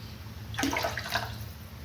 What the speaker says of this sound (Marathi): अगदी थोडंसं पाणी टाकते आता.